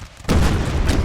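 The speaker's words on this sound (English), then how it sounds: "Maybe just the sound of the cannons is enough to..." A cannon booms once in Napoleon Total War, a sudden loud blast followed by a sustained rumbling roar that fills the short moment.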